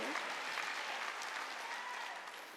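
A church congregation at a Wednesday worship service claps together: a thick, continuous wash of applause that holds steady, with faint voices mixed underneath.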